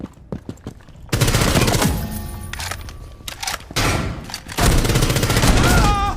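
Rainbow Six Mobile gunfire rings out in loud rapid bursts of automatic fire, separated by short pauses and ending in a sustained volley.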